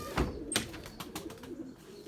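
Pigeons cooing in a loft of white pigeons, a few soft, low coos with brief flutters and scuffs close by, no talking.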